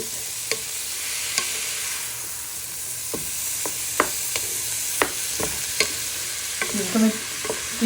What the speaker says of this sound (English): You want to give them a good stir into your pan with your onions, garlic and chorizo